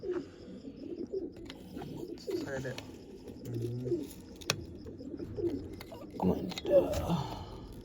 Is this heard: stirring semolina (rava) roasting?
no